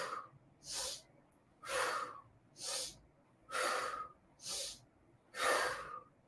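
Deep, slow breaths during a gentle yoga session, about seven audible inhales and exhales in an even rhythm. Each one is close and airy, with quiet gaps between them and no talking.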